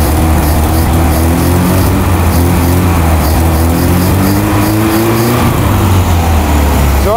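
A car engine fitted with four stacked head gaskets runs steadily, a loud, close, continuous drone with a deep hum and gently wavering pitch, with no talk over it.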